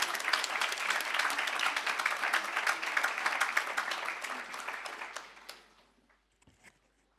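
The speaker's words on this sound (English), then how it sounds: "Can we all give a round of applause for Naseem?" An audience at an International Women's Day event gives a dense, lively round of applause that holds strongly for several seconds, then tapers off into a few scattered claps and quiet.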